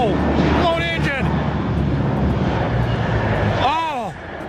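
A jet aircraft with a blown engine roars loudly and steadily, with sweeping whine tones rising and falling, under excited shouting voices.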